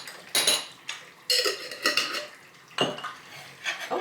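Small ceramic serving dishes and cutlery clink and clatter in a home kitchen as pâté is served, a few sharp knocks and rattles in bursts, close and fairly loud with no talk.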